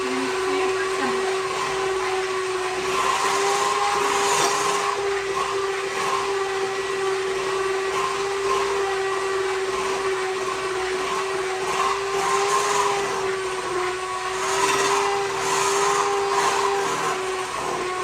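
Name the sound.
electric mixer mixing butter cake batter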